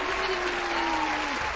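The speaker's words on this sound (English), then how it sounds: "Applause." Studio audience applause fills the room in a steady, dense wash of clapping with no gaps, holding at an even loudness throughout the short stretch.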